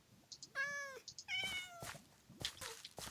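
A small cat spawned from an egg in the Minecraft modpack ATM10 meows several times in close succession, clear and near, with short high chirps between the calls and no talk.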